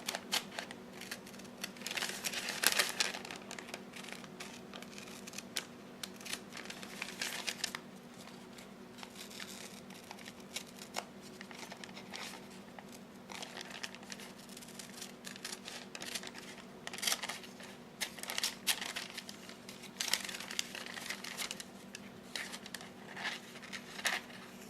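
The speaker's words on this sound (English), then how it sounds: "And this is parchment paper." Parchment paper handled close up on a desk while planner pages are prepared: soft crinkling, rustling and light tapping come in irregular bursts, with no talking over it.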